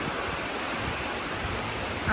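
Rain lashing down in Almaty amid hurricane-force wind, a steady dense hiss of downpour with no break, fairly loud and close throughout.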